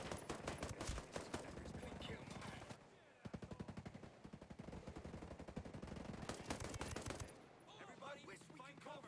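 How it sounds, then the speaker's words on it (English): Sustained automatic gunfire in Ghost Recon Breakpoint, dense rapid bursts from several weapons with a brief pause midway, loud throughout, with voices heard beneath the shooting. "I can't with all the shooting going on!"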